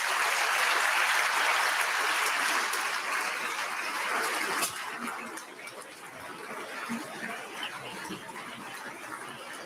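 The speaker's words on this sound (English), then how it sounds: "Please, a hand of applause." Conference audience applause at the Munich Security Conference, a broad steady wash of clapping that drops sharply in level about halfway through and continues more softly to the end.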